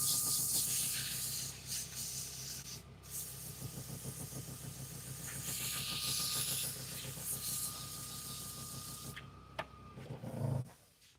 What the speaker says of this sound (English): Give it a rough sand on the outside before I flip it.